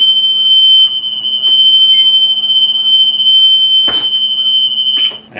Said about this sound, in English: We'll actually be listening for the alarm when our door opens.